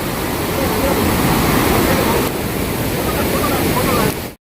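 Napne waterfall in Maharashtra roars in a loud, dense, continuous rush of falling water close by. It holds steady before cutting off abruptly at the end.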